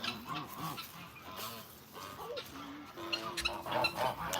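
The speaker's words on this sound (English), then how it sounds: "These are my 2 oldest female geese." Two old female geese let out at an animal sanctuary, honking and clucking in short bursts and a few sustained calls, fairly close, with a person's voice faintly in the background.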